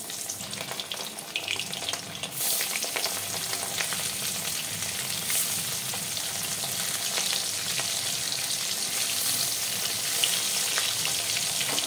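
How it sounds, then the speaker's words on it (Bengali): Fish frying in hot mustard oil for a dhela fish curry gives a steady, loud sizzle that swells after the first couple of seconds and holds dense and even throughout, with no talking over it. "এই তেলে আমি মাছগুলো ভেজে নিচ্ছি।"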